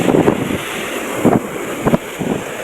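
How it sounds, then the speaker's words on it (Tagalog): Heavy waves crash and wash on a fishing shore in a steady roar, punctuated by a few louder surges, with wind rumbling across the microphone. "Napakalakas ng alon dito."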